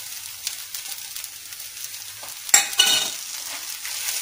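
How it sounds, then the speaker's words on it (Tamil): Coriander leaves are stirred into food frying crisp in a pan: a continuous close sizzle with scraping stir strokes, and a sharp louder burst of crackle midway as the leaves hit the hot oil. "இப்போ நம்ம எடுத்து வச்சிருக்க கொத்தமல்லி இலையை வந்து உள்ளே சேர்த்துக்கலாம்."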